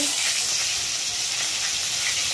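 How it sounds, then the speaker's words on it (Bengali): Fish bones fry in hot oil for a shukto dish, giving a loud, steady, continuous sizzle close up with no break and no talking. "মাছের কাঁটাগুলো ভেজে নিচ্ছি"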